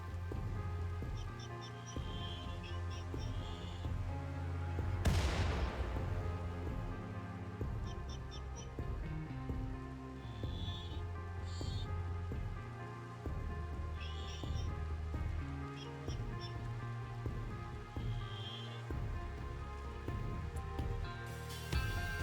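Soft, steady rain patters in the RimWorld colony game, a faint continuous hiss with scattered light taps and one brief louder burst, and no talk.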